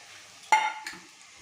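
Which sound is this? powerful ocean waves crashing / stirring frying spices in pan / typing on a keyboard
stirring frying spices in pan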